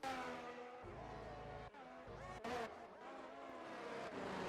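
A Formula 1 race car from a racing video game, the Netherlands round, holds a steady high-pitched engine drone on a warm-up lap, revving up and down through gear changes, loud and continuous with a brief low burst.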